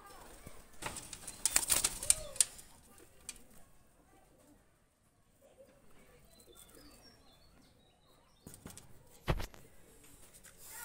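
Two young Oman-bloodline pigeons released, with a burst of wing flapping and clatter early on, faint chirps and cooing in between, and another short flutter near the end.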